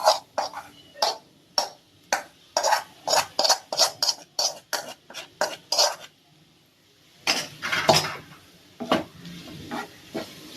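Mutton with potato and onion being sautéed in a pan for Chettinad mutton podimas: a rapid series of sharp scraping and clinking stirring strokes, close and fairly loud, with a brief pause before more stirring and soft sizzling beneath.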